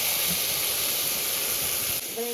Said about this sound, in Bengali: এই যে ঘোলটা দিয়ে দেব